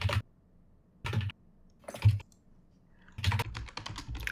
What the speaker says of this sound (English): We're just typing.